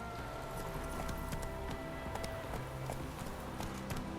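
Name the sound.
horse hooves galloping in video game The Witcher 3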